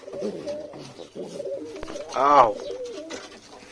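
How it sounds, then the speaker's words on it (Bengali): A Sirazi pigeon gives a low, throaty coo up close, with softer bird murmurs and shuffling around it. "এই যে এখানে সিরাজি পায়রা আছে দেখতে পাচ্ছেন"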